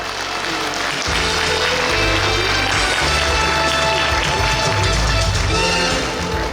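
Audience applause at a Suncheon city public forum on administrative and education integration, a loud, dense wash of clapping filling the room steadily from start to finish, with faint voices underneath.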